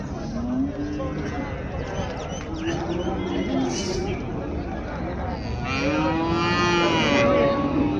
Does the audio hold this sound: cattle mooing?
yes